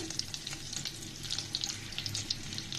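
Eggs fry in a pan with a steady, soft sizzle, crackling in small bright pops over a low background hum throughout.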